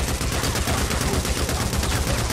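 Sustained automatic fire from an MG55 light machine gun in Days Gone, a dense, unbroken rattle of rapid shots held at a loud, even level for the whole stretch.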